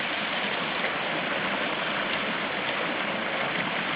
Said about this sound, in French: donc rasage dans le torrent